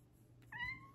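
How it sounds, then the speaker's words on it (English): A pet cat at home gives a single clear, close meow that rises and then trails off, after a moment of quiet room tone. "Here comes the cat."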